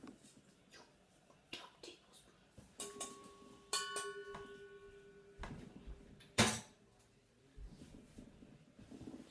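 A tablespoon clatters into a container while slime is being made, giving a sharp metallic rattle with brief ringing tones among quieter handling noises and scattered movement.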